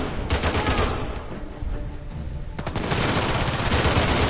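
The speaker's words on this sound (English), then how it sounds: "How about y'all stop shooting my damn cover?" Gunfire in the video game Uncharted 4: loud, dense automatic bursts that continue throughout, with sharp cracks and heavy rumbling, and no voices.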